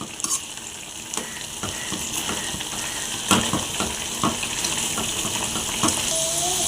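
Boiled and cooled milk is poured into cooking bread halwa in a hot pan, making a continuous sizzling, bubbling splash with occasional sharper pops and stirring knocks, loud and close.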